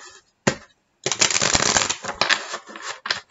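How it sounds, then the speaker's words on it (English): A deck of tarot cards is shuffled in a quick riffle after a single sharp snap, a dense rapid fluttering that lasts about two seconds before a few final taps. "I will give the deck one more shuffle"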